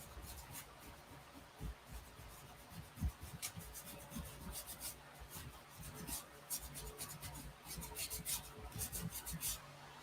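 A paintbrush scruffs acrylic paint across a canvas in a whimsical painting of a girl in a flower field, giving faint, close, continuous scratchy rubbing strokes in an uneven rhythm.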